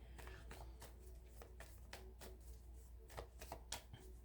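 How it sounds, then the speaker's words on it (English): Tarot cards shuffled by hand, a quiet run of soft riffling flicks and slaps in irregular bursts, close and faint. "Okay, I gotta stop shuffling."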